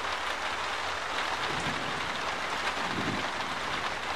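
Steady rain falls in a continuous, even hiss that stays level throughout, with no voices.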